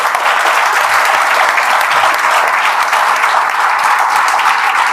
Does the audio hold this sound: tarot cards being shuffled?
no